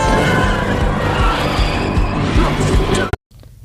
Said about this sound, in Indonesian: Dan dia memacu mobilnya dengan cepat dan kencang sampai ngedrift.